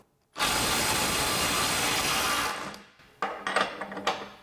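A Snap-On CT-9010 cordless impact wrench runs in one loud, continuous burst of about two seconds, then tapers off, followed by a few sharp clicks and knocks close by.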